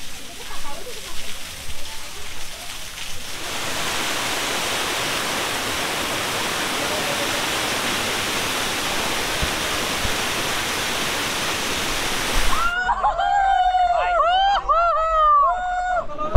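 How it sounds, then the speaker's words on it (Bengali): Shuvolong waterfall in Rangamati, the smaller falls, roars as a loud, steady broadband rush of water that fills most of the stretch, with people talking at the start and end. "এইটাই কিন্তু সেই ঝর্ণাটা।"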